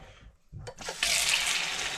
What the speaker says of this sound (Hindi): और इसमें गर्म पानी जो है ना वो साथ में डाल देता हूँ।